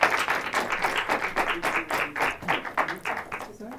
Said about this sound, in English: please give a warm round of applause for Lucy Durán